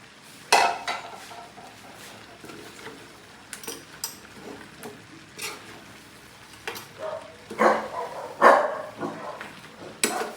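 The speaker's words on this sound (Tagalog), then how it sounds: "tumatahol na aso" A dog barks in short bursts, some loud and close, alongside clinking dishes and kitchen clatter; no talking.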